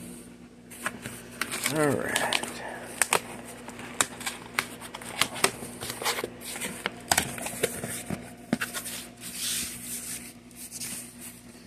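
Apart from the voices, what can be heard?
scissors cutting open packaging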